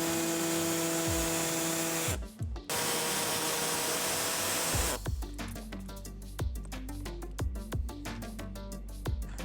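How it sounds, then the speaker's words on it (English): A pneumatic air saw buzzes steadily while cutting through a plastic underbody panel on a 2022 Kia Niro EV, with a continuous loud whine that briefly stops once before resuming with choppier strokes. "I'm going to use an air saw to cut it out real quick."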